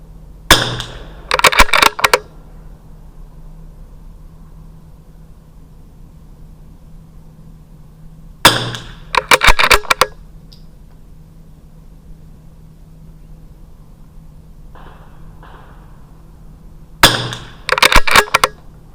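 Three groups of sharp, loud .22 LR rifle shots firing Lapua Center X ammunition, each group a few quick cracks spaced several seconds apart over a low steady background hum.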